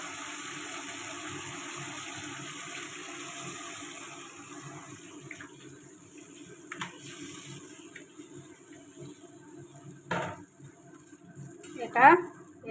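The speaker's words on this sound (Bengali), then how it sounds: "এবারে তরকারিটা ঢেলে দেব।" Curry for a rohu fish, potato and pumpkin-stem dish pours into a pan of spiced oil with a soft, continuous watery gush, followed by a few faint clinks near the end.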